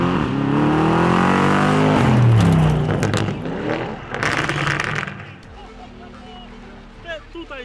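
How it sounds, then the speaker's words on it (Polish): A Lamborghini Urus roars past in a flyby, its engine revving hard and rising in pitch as it accelerates, then fading away, with a downshift audible before the sound drops off. "Słońce nam wychodzi, więc pozwolimy sobie na lekki flyby. Zobaczycie, jak ten samochód w ruchu wygląda."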